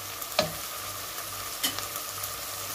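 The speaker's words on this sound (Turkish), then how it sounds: "Salçanın kokusu gidene kadar güzelce kavuracağız" Tomato paste sautéed in a pan for a Turkish meat and dried bean dish gives a low, steady sizzle broken by two sharp utensil knocks against the pan, close and fairly quiet.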